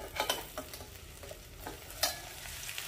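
Beans and potato curry frying in a pan, a steady close sizzle broken by scraping stirs and spatula knocks, with one louder clack near the end.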